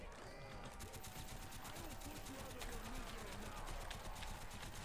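Rapid M60 machine gun fire in Black Ops 1 zombies on a custom map, a dense run of shots that holds steady throughout, mixed with game noise and voices talking over it.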